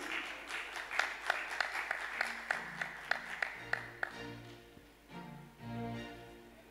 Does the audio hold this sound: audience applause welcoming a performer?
yes